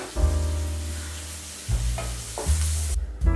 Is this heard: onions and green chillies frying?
yes